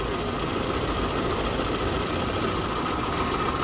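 A VAZ 2112 car engine idles steadily up close, a continuous, even rumble with no pauses and no voices over it.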